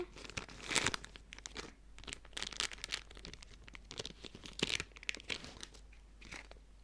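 A Minecraft collectible foil sachet is torn open and crinkled close up. The sound is a quiet, irregular series of crackles, rustles and tearing crunches with no talking.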